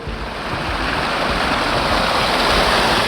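Cleaned water rushes steadily along a canal leading into a stream, a loud, dense, continuous wash of flowing water with no pauses and no voices.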